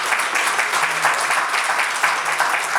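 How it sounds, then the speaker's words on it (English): Applause at an album launch and listening party, a moderate crowd clapping steadily throughout with a fairly even, sustained texture. "So a round of applause, please,"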